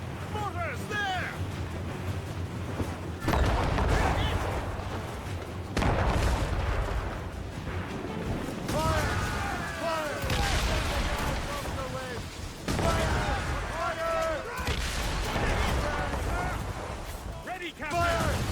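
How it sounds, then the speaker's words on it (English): Mortar fire during a naval battle in Assassin's Creed Rogue, heavy booms and rumbling blasts recurring every few seconds beneath shouted commands and dialogue. "Mortars, there!"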